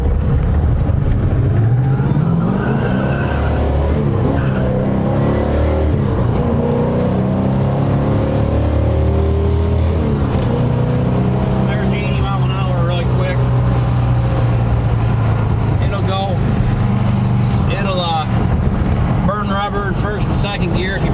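A 1970 Dodge Super Bee V8 accelerating on the road, a loud, close engine roar rising through the gears with a brief dip at a shift, steady exhaust drone throughout and someone speaking briefly over it.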